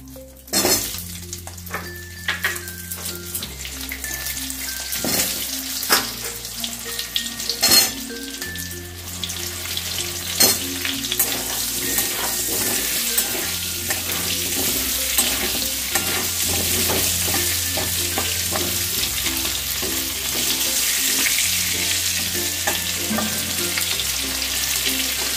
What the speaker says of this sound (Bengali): আমি প্রথমে আলুগুলোকে ভেজে নেব।